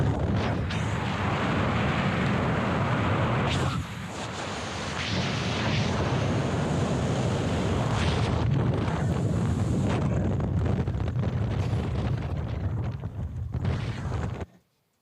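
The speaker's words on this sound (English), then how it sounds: "So the first wave will break off, second waves break off." Ocean waves break in a continuous, loud roar that is heavily buffeted by wind on the microphone. A brief dip comes after a few seconds, then the roar runs on until it cuts off.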